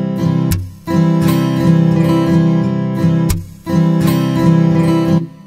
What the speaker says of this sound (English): say you wanted to mute the strings by slapping the strings like this.